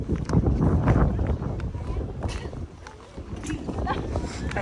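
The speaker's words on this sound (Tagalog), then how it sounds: "Malakas hangin naman dito." Strong wind at a fishing spot in Dubai buffets the microphone with a heavy, fluctuating low rumble that carries on throughout, with people speaking faintly beneath it.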